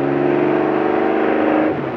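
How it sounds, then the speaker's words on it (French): Porsche 910 race car engine roaring loud and close at high revs, a sustained rich, buzzing note that holds steady and then eases off slightly near the end. "D'abord le bruit est formidable, on s'entend pas mais on a l'impression de tourner avec Steve McQueen dans Le Mans"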